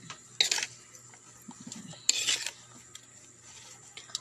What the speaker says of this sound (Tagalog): At syempre, asukal. Ayan, haluin siya ng haluin.